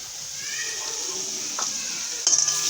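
Biryani masala stirred and frying in a pan, a steady close sizzle with scraping stirs throughout, and a louder clattering stir near the end.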